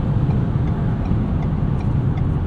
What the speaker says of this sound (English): we're getting a little bit more wind noise than we would normally on the highway